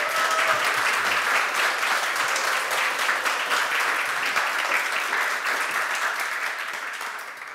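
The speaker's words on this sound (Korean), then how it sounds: "우리 힘차게 우리 진심을 담아서 힘찬 박수를 한번 보여줬으면 좋겠습니다." Congregation in a church service applauding, a strong sustained round of clapping with some individual claps standing out, gradually fading toward the close.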